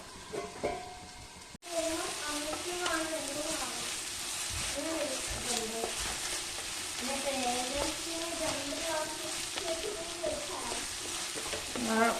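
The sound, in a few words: onions sautéing and stirred in a pan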